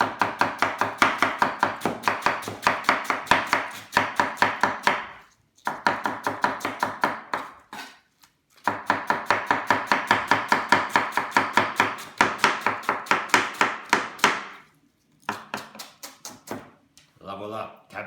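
A knife chops cabbage on a board in fast, even bursts of crisp strikes, close and loud, with short pauses between runs and a brief scrape near the end.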